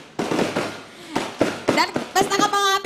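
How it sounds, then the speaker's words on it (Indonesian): A New Year fireworks celebration in Yogyakarta, with several sharp cracking bursts and crackles arriving in quick succession, loud and close, mixed with voices. "Sepertinya ini pesta kembang api paling meriah di abad ini ya."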